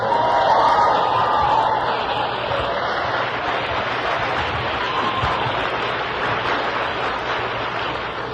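An audience at a Day of Sobriety AA gathering in San Jose applauds a speaker, a dense, steady wash of clapping that holds evenly throughout with no talk.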